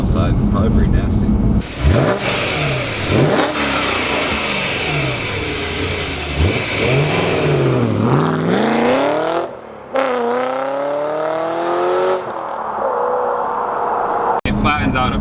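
A BMW E90 M3 engine revving hard under acceleration, heard from inside the car, loud and rising through repeated climbs with gear-change dips, while people talk over it.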